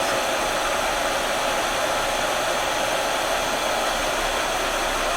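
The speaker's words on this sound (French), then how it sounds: "la peinture qui sèche très très vite avec le sèche-cheveux" A hair dryer drying acrylic paint blows steadily and loudly at close range, a constant broadband whoosh with no breaks.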